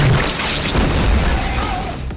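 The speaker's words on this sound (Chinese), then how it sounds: "电光人则由于电流间的磁力吸引，承受了所有电流，被活活撑爆" Electro, overloaded by a massive electrical surge in a Spider-Man film, bursts in a loud, sustained explosive boom: a dense, roaring blast that rumbles on steadily for about two seconds.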